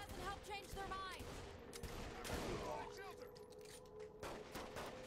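Gunfire in the Saints Row: The Third video game rattles in quick bursts behind game noise and distant shouting voices, fairly faint and continuous through the scene.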